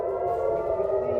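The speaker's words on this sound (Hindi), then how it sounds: "युद्ध के सायरन साफ सुनाई दे रहे हैं।" An air-raid siren wails during an Iranian missile attack in the Iran-Israel war, a steady, sustained tone that holds at an even, loud level throughout, with no voices.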